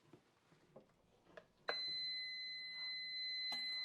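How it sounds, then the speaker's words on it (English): A kitchen timer goes off while pasta sauce simmers on the stove, sounding a sudden steady electronic beep tone that holds for a couple of seconds and then a second burst, after a few soft kitchen clatters. "There's the timer."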